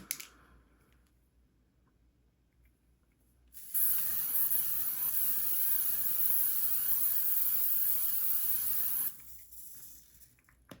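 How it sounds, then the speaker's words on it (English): A steady aerosol spray of makeup finishing spray hisses continuously for about five seconds, close and fairly loud, between quiet stretches. "I haven't sprayed myself with finishing spray, so I should do that."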